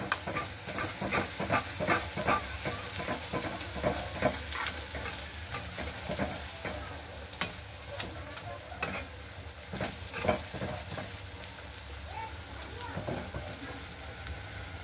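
Whole garam masala spices sizzle and fry in a hot pan for a pea kurma, with steady crackling hiss and repeated stirring scrapes throughout, close and continuous.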